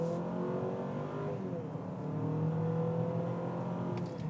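A 2024 Honda CR-V hybrid with 4x4 pulls away quickly from a stop, its engine hum and whir rising steadily under a continuous drone, heard from inside the cabin.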